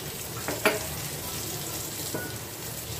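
Pumpkin sabji with fennel powder cooks in a pan, giving a steady close sizzle with a couple of faint clinks from stirring, no voices.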